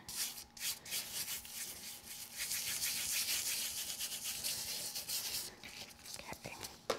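Diamond sprinkles are burnished onto adhesive on a handmade Valentine butterfly card with soft, quiet, scratchy rubbing strokes close up, fading briefly near the end.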